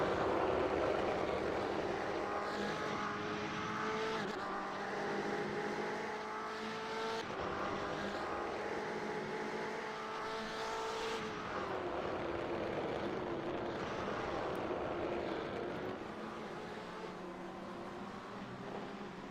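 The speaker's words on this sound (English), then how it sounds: "you can hear the tires a little bit more than the rest of the cars" Steady engine drone and tire roar from race cars in a racing video game at Sonoma, loud and continuous with shifting tones throughout and no talk.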